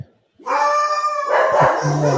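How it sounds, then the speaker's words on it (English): Several dogs barking and howling at close range, including a small hound, a steady, loud burst of overlapping barks and yowls that fills the stretch after a brief quiet start. "So my dogs are barking."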